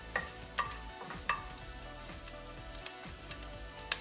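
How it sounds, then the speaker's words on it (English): Garlic sautéing in a pan for a spicy Thai cantaloupe dish makes a gentle sizzle under repeated clicks and scrapes of stirring, quiet and close, without speech. "so we're just going to saute this for about a minute"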